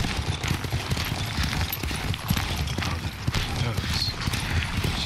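A horse's hooves clip-clop in Ghost of Tsushima, a busy rhythmic patter of steps on ground heard under someone speaking, with rustling ambience throughout.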